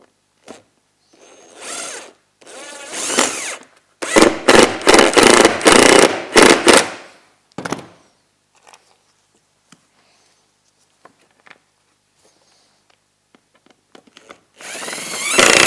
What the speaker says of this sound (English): So these ones are okay to screw in all the way.